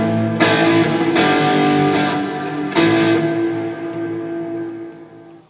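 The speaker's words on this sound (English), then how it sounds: "that should be vibratone and reverb" Electric guitar through a Fender Mustang Micro headphone amp set to vibratone and reverb, three or four struck chords swelling with a warbling rotary shimmer and long reverb tails that fade out at the end.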